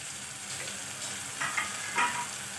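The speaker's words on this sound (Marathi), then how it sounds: "आपला कांदा भाजत आलाय, तोपर्यंत मी टॅमॅटो टाकून घेणार आहे बारीक चिरून घेतलेलं." Onion and finely chopped tomato frying in a pan, a steady soft sizzle with a couple of brief stirring scrapes.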